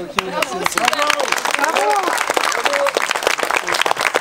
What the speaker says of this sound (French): Je crois que vraiment on peut vraiment l'applaudir.